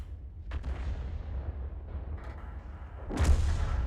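Lorraine 155 artillery in a video game fires shells with booming, rumbling blasts: a distant thud early, a long low rumble after it, and a louder, closer boom near the end, with no talking.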